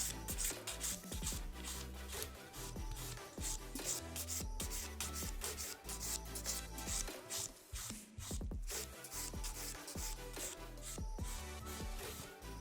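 Filing and beveling an acrylic nail toward the tip produces faint, close, rapid rasping strokes in a quick repeated rhythm, with brief pauses between passes.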